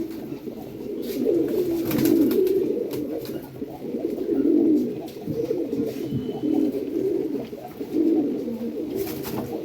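Madrasi pigeons, including golden eye and kalanka birds, coo close by in repeated rounded calls that rise and fall in a steady rhythm, with no talking.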